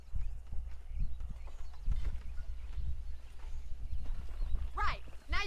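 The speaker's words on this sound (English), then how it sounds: "Let's see if we can't wrangle some horses." Horse hooves clip-clop in the Red Dead Redemption video game, a steady, soft rhythm of hoofbeats going on under ambient game sound, with a brief whinny near the end.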